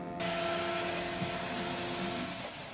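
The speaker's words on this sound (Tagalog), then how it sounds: "Fairness naman, gumagana yung vacuum." A vacuum cleaner switches on and runs with a steady, loud whining roar at close range, sustained without pause and with no talk over it.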